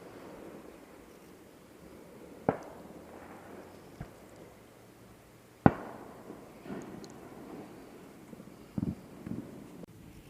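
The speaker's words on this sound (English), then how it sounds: "Fireworks, 4th of July, America." Fourth of July fireworks boom at a distance during a night of catfishing, several sharp isolated bangs with rumbling tails, separated by quiet stretches.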